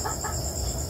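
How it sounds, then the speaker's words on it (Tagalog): Frightened chickens cluck faintly amid steady background noise and insect-like buzzing, with brief agitated calls and no speech. "Ito na natakot yung mga manok."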